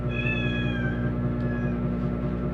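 Pet cats meow indoors: two or three drawn-out, rising-and-falling cries overlap in the first second, and a shorter meow follows around the middle, all over a steady low mechanical hum.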